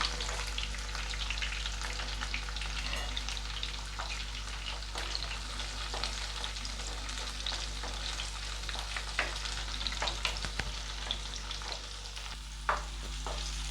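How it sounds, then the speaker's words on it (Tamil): Garlic and small shallots sauté in oil for a Nellai-style tamarind curry, giving a steady, close crackling sizzle with occasional stirring scrapes throughout. "வெள்ளைப்பூடும் சின்ன வெங்காயமும் கொஞ்சம் நல்லா வதங்கிட்டுருக்கு"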